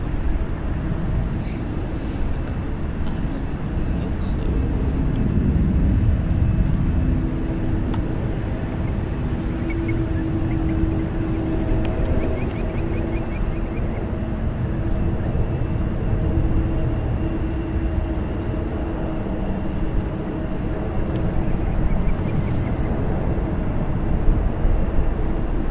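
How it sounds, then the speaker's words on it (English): A Boeing 747 jet rumbles steadily at a distance at San Francisco International Airport, a broad continuous roar with a faint high whine that holds for the full stretch with no talk. "is that a 747?"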